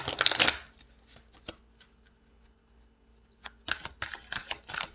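Tarot-style Soul's Journey cards are shuffled close up in two quick flurries of papery riffling and flicking, separated by a quieter stretch with a few soft taps.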